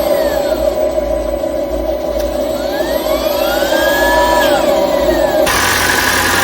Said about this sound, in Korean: 이러다가 전기가 부족해지면 시동이 걸립니다.